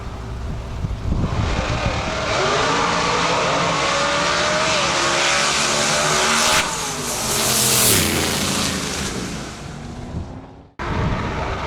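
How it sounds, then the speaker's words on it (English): A 1993 Ford F-150 drag truck roars through a qualifying pass at a Lights Out drag racing event, its engine loud and close, winding up through the gears and sustaining a hard, steady howl before cutting off abruptly near the end. "driving his 93 Ford F-150. Let's see his qualifying pass number 2 right now."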